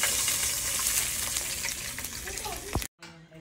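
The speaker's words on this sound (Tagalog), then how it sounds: "Baliktaran na po natin ang ating piritong bangus" Bangus (milkfish) fries in oil with a busy, crackling sizzle and spatter that continues for nearly three seconds before cutting off abruptly into near silence.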